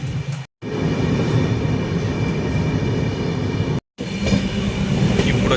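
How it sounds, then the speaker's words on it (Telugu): A passenger train rolls steadily along the track with a loud, continuous rumble and rattle of the carriages, broken by two short drops into silence. No one speaks. "ఎక్కడ పడితే అక్కడ ఆపేస్తున్నాడు ట్రైన్"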